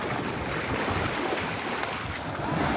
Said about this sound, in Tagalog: Alon, alon, alon.